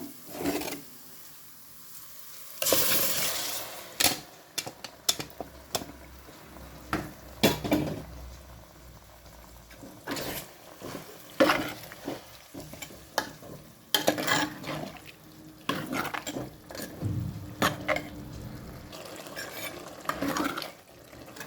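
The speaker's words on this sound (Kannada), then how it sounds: "ನಾನೀಗ ಬೇಯಿಸಿಟ್ಟ ತೊಂಡೆಕಾಯಿಯನ್ನು ಸೇರಿಸ್ಕೊಳ್ತಾ ಇದ್ದೇನೆ." Boiled ivy gourd goes into a hot spice tempering and is stir-fried, giving a low sizzle with frequent scrapes, knocks and rattles of a spoon against the pan at close range.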